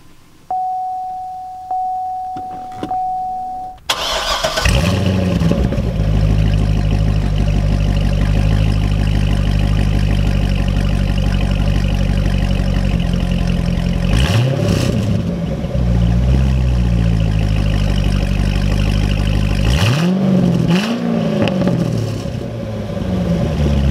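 A 2011 Corvette Grand Sport's engine cranks with a chime ringing beforehand, catches and settles into a loud, steady idle, then gives two sharp throttle revs that rise and fall.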